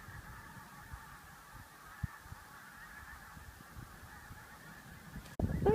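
Seal pups at Blakeney Point calling in a steady chorus of honking, goose-like cries from a sizeable group, moderately distant under outdoor wind noise.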